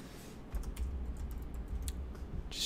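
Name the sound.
computer keyboard typing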